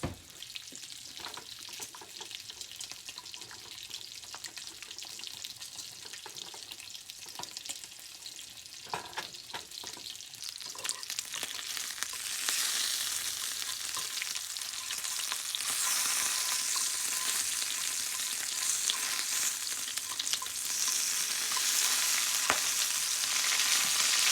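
Bacon and eggs frying together in a pan on medium heat, a steady crackling sizzle that swells louder and brighter about halfway through, with occasional utensil taps and no talking.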